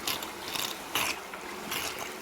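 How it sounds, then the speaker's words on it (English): Water pump on a 6-inch Gold Rat highbanker malfunctioning, giving a rough, rattling mechanical clatter with irregular bursts of louder grinding, close and continuous over running water. "That's me pump just going stupid."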